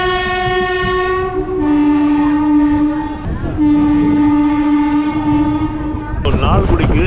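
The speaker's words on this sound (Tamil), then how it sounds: "இப்போ ஸோ லால்குடியிலேருந்து ட்ரெயின் வந்து புறப்படுச்சு." A train departs Lalgudi station, its horn blaring in two long, loud tonal blasts separated by a short break, over a steady rumble of the moving train, ending with a sharp clatter.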